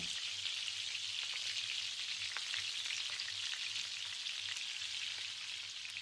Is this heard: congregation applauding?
no